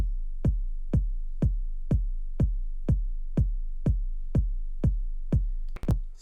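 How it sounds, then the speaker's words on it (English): Electronic sub kick layered with a top kick drum sample, played alone in a Serum synth: eleven evenly spaced deep booming thumps with sharp clicky attacks and short decaying tails, ending with a brief glitchy burst. "if I play just the sub kick and the top kick by themselves, it sounds like this"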